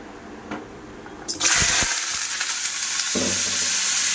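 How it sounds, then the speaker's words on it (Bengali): Boiled papaya pieces hit hot oil and start frying in a pan, a quiet lead-in giving way to a sudden loud sizzle with a couple of sharp clatters, then a steady close hiss. "এবার আমি পেঁপেটা ভেজে নেব"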